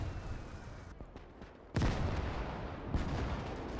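Su-122 self-propelled guns firing at long distance in the Gates of Hell battle game, two sharp booming reports with rumbling tails over a background of scattered gunfire, fairly faint overall.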